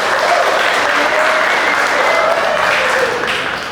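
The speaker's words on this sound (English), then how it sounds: "Can we give them a round of applause?" An audience breaks into a sustained round of applause at a speaking event, dense clapping from many hands filling the room at an even level before tapering slightly at the end.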